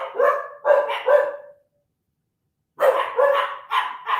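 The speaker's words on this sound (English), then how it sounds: "It's making my dogs go crazy." A dog barks in two quick bursts of three or four sharp barks each, separated by a short silence, fairly close and clear, as fireworks go off outside.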